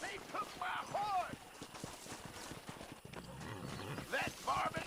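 Horse hooves clatter at a gallop in Red Dead Redemption, a steady drumming rhythm running under loud shouted speech throughout.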